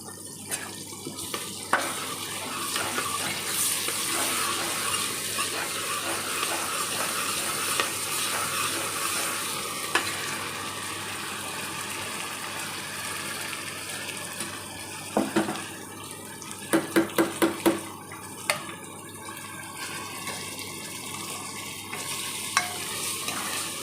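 Ginger-garlic paste frying for a sheep head mutton curry, a continuous close sizzle with a running-water hiss mixed in and a cluster of sharp clicks and taps toward the end.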